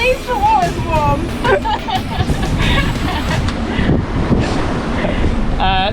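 A wave crashes over the cockpit of a sailboat in a tropical squall on the passage to Tobago, loud rushing water and gusting wind roaring against the microphone, with voices talking over it.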